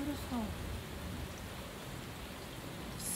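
Steady rain falling outside a back porch at a house in Celina, Texas, a soft, even wash of drops heard from nearby with no distinct thunder, continuous and fairly quiet throughout.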